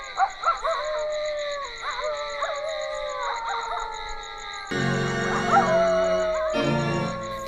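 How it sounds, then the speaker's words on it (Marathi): Dogs yipping and howling in short bursts, followed by drawn-out whimpering and howling, with a faint rhythmic ticking in the background and a louder, busier patch of sound near the end. "कुत्री का वरडायला लागले ती?"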